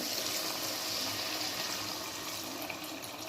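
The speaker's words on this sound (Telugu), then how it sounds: "నేను one and half glass water add చేసుకుంటున్నాను" Water pours steadily into a cooking pot with a continuous rushing hiss, close by and fairly quiet, without voices.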